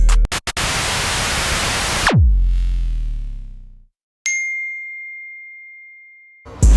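A notification bell dings once after a burst of loud static cuts off, the struck tone ringing out and fading over a couple of seconds, followed by a long, steady high bell tone. No one speaks.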